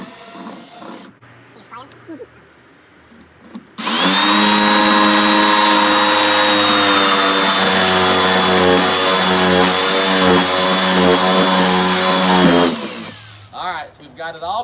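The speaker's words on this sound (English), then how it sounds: "we will drill a hole and then work a saw in and cut this hole out" A loud power saw whines steadily for about nine seconds after a quieter start while cutting a window hole in a garden shed, then winds down, with faint background noise before and after.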